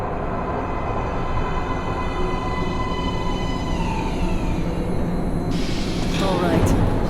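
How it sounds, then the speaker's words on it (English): Metro train pulling into a platform in the video game Metro Last Light, a loud rumbling rolling roar with rising whines and a squeal near the end, a voice speaking over it. "Train coming in."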